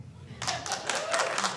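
A sparse round of applause breaks out from a stand-up comedy audience, starting abruptly after a quiet moment and carrying on as uneven, moderately loud clapping from a small crowd, with a voice heard faintly at the start.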